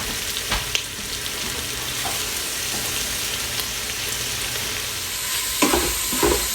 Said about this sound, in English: browning off our sausage here.